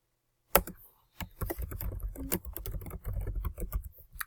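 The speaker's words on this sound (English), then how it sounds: "I can type my name." Someone types on a computer keyboard in a rapid, uneven patter of close, crisp keystrokes, with a single isolated tap before the steady burst.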